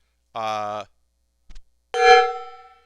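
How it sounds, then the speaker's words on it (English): A gong is struck near the end, a bright metallic clang that rings out and fades over about a second, preceded by a short tonal vocal sound and a soft tap. "I'll hit the gong."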